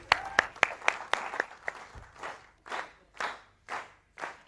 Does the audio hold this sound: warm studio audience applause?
yes